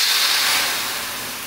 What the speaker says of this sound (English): Oh, that's sizzle.